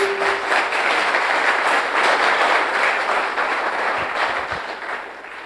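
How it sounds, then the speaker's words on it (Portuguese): Congregation applauding during a Catholic church service, a broad steady wash of clapping that holds for several seconds and tapers slightly at the end. "Você pode aplaudir a palavra de Deus."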